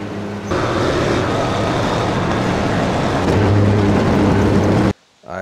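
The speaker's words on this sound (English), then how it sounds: "But yeah, that's a lawnmower." Steady droning engine of a riding mower running close by, loud and constant, then cutting off abruptly near the end.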